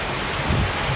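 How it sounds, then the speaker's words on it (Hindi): Steady rain pours outdoors on a dark, cold night, a dense continuous hiss of drops on surfaces filling the whole moment with no voices. "और पीछे अगर बारिश की आवाज आ रही है तो जरूर आएगी"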